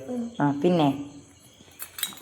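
A voice speaks briefly, then after a pause come a few light, quick metallic clinks of small toy pots knocking together.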